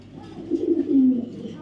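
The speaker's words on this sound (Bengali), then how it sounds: "এটা একটা মাদি কবুতর সবজি রেসার" A female racing pigeon gives a single soft, throaty coo, close by and brief, rising and falling over about a second.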